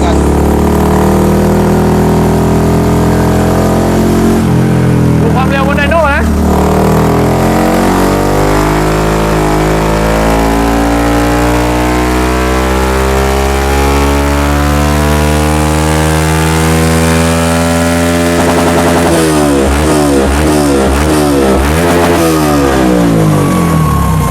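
A vehicle engine revs hard in fourth gear on a dyno, climbing steadily in pitch over long pulls with a brief drop and re-rise partway through, loud and close with no talk.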